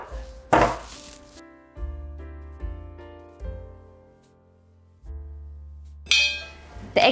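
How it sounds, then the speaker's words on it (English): A few bursts of knife chopping salad vegetables for Olivier salad on a board, one near the start and another near the end, with soft melodic background music playing between them. "Once you finish chopping each element of the salad"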